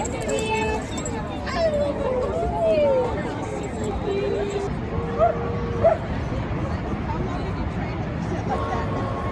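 Dogs dressed in costumes for a Halloween dog costume event at Pier 17 in New York City yip, whimper and give short barks amid a steady outdoor crowd babble, with scattered brief vocalizations and people talking throughout.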